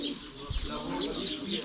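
Parrots call at a mini zoo in Luxor, Egypt, with repeated bright, chattering cries rising over a busy outdoor background of murmuring voices and other birds, moderately close and continuous.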